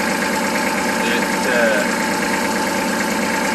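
A Kubota L3200 tractor engine runs at a steady idle, a close, loud, even mechanical drone with slight knocking texture, a voice briefly audible over it.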